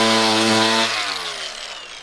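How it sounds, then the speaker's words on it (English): A battery-powered tool fitted with a wire brush cleans a fiberglass roof surface. Its close, whining motor hum winds down and fades over about two seconds. "You clean the surface with a wire brush"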